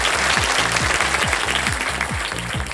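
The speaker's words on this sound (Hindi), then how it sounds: "ताली भी बज गई साथ में।" Studio audience applause on the TV quiz show Kaun Banega Crorepati, loud continuous clapping over a rhythmic pulsing music bed.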